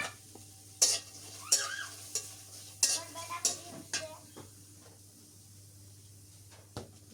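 Garlic, onion and chopped green chili for an okra and potato fry crackle in a pan with sharp clanks of a spatula against metal, irregular stirring scrapes over a low sizzle, fading to a quiet hiss.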